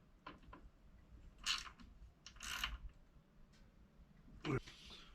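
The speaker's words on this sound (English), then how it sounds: "I come back behind it with an actual ratchet and tighten them down" A hand ratchet tightens bolts on the mount of an older Minn Kota Ultrex trolling motor, giving a few faint, brief clicking bursts separated by quiet pauses.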